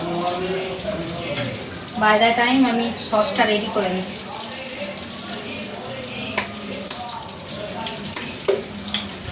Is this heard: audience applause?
no